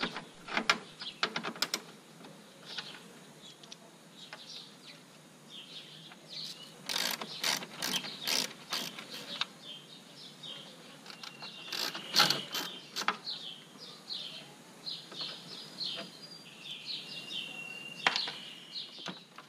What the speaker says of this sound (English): So, use your ratchet or a screwdriver to remove these bolts.